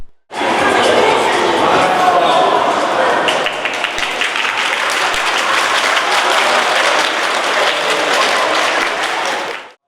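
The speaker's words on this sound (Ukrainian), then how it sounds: "А поки що юні спортсмени отримують перші оплески за свій виступ" Sustained audience applause for a young acrobats' tumbling-track performance at a Kangaroo tournament, loud dense clapping from a crowd that runs steadily for the whole stretch, with crowd chatter mixed in.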